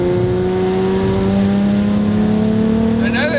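An MK4 Volkswagen Golf R32 engine drones loudly and steadily from inside the car as it rolls into third gear, the pitch holding then climbing slightly, with a brief shift of tone near the end.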